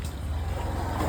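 A river launch ferry's engine carries a steady low rumble with watery wash through one brief moment near Mayapur and Nabadwip.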